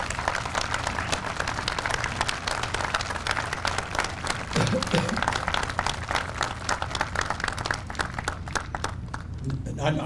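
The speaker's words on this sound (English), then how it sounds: "Let's give him a round of applause for his great." Crowd at a Veterans Day ceremony in Indianapolis breaks into sustained applause, a dense wash of clapping throughout, with a voice speaking over it partway through.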